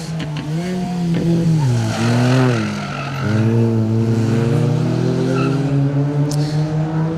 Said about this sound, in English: That's the edge of the tyre there, Paul.